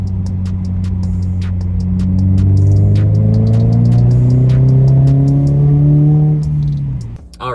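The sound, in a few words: car driving with the red shift knob fitted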